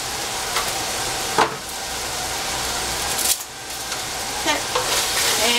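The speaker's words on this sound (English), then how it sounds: "And I'm just stirring my meat right now." Meat browning in a pan while being stirred, a steady close sizzle and frying hiss broken by a few utensil scrapes and stirring bursts.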